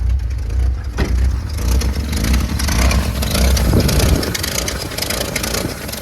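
A Jeep YJ engine runs loud and close, roaring and revving steadily throughout with a rough, continuous drone and no talking.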